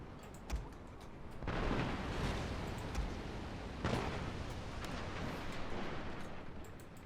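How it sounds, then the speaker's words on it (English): Ship cannons fire in a Shogun 2 Total War naval battle: a couple of dull booms rise out of a dense, rumbling wash of battle noise that keeps going throughout. "Oh, it's because you're shooting that other ship."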